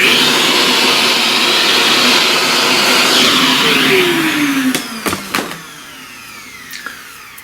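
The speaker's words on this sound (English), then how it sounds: "Let's vacuum that up real quick." A vacuum cleaner sucks up pastel dust, its loud steady whine filling the first few seconds before the motor winds down with a falling pitch, followed by a few clicks and a quieter tail.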